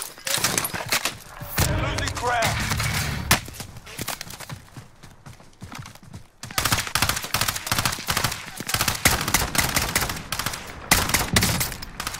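Rapid bursts of automatic gunfire in the Call of Duty: Modern Warfare video game, loud and repeated in clusters with short gaps, some heavier volleys, and brief quieter stretches between exchanges.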